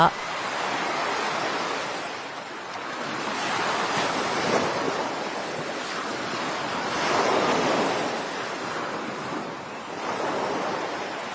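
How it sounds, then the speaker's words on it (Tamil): Continuous rushing floodwater roars loudly in Tirunelveli, surging and easing in waves, with a windy, hissing texture and no voices. "என்னங்கடா டேமை திறந்து விட்ட மாதிரி தண்ணி வருது"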